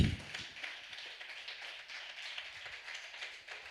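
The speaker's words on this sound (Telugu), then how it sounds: "చప్పట్లు కొడదాం, హల్లెలూయా. ఇంకా గట్టిగా కొడదాం." A church congregation claps hands together during a lively service, a steady, dense patter of many hands that runs throughout at a modest, somewhat distant level.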